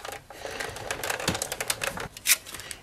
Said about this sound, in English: You're going to put that into the embossing folder and run it through the Big Shot